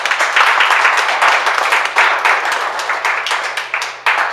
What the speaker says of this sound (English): Clap your hands for Jesus right there.